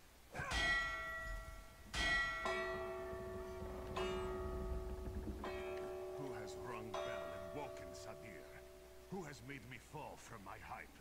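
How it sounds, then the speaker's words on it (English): In the Elder Scrolls Online game, a storm warning bell rings out in several resonant clangs with long ringing decays, while a person talks quietly over the later strikes. "storm warning bell might be up here."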